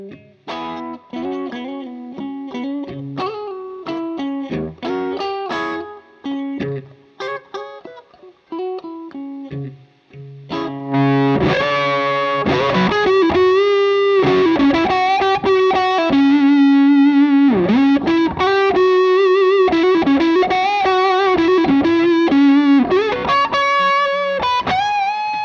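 Electric guitar played loud through a fuzz pedal, starting with picked notes and chords, then swelling into a thick, singing distorted tone that sustains continuously and fills the rest of the passage, alone with no voices.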